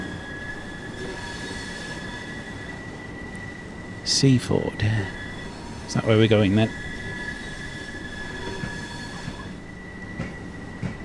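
Electric train from Train Sim World 3 rolling along with a steady hum and rumble, while two brief bursts of talk cut in over it.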